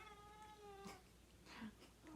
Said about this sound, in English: That's my cat. She doesn't like that.